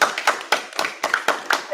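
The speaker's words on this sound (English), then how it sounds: "Give yourself a round of applause." An audience at a talk on timber truss types applauds themselves: a small group's claps land in sharp, evenly spaced bursts, close and fairly loud, roughly four per second.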